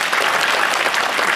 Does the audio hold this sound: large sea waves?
no